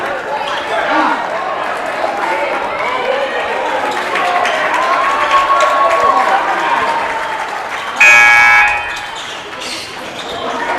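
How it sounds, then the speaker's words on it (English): Crowd at a high school basketball game between Caribou and Foxcroft applauding a player, sustained clapping and cheering over court noise, with a loud buzzer blast near the end and announcer talk underneath. "Hunter Stevens deserves the hand he's getting from the crowd"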